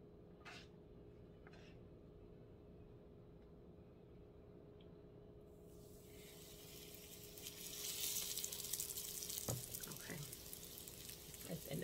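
Fish frying in a pan, a bright crackling sizzle bursting in partway through after a few soft clunks, then continuing steadily with light pops and clatter.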